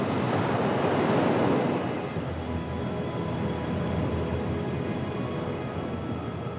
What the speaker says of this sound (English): the wind whips up the sea like this